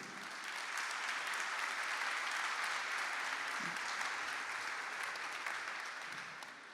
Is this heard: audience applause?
yes